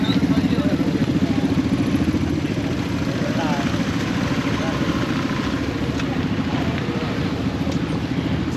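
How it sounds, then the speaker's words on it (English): Honda Wave 100 motorbikes in a Vientiane street at night, a steady close idling and running engine rumble with a fast, even pulse, heard under a voice talking throughout. "that wonderful Honda Wave 100. The bike of choice around here, the bike of reputation."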